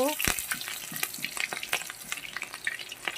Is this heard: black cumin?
yes